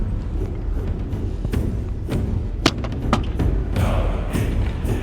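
Arrow with a bodkin tip loosed from a bow outdoors, landing as a dull thud at mid-distance amid a steady background of outdoor noise, with a few other soft knocks around it.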